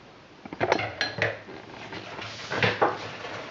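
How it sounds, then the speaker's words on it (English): A chopstick stirring sourdough starter in a container, producing a few close, quiet knocks and scrapes against the sides in short irregular bursts, with no talk. "I just use a chopstick and I just stir that around."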